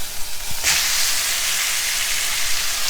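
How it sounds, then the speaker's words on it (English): Pot roast meat searing in a hot pan makes a loud, steady hiss that rises after a brief knock and holds broad and close throughout. "One more side to sear. I'm searing the meat."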